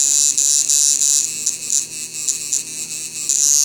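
A tattoo machine buzzes steadily during a tattooing lesson in a studio, a close, high-pitched electric whine that pulses and dips slightly in level as the needle works.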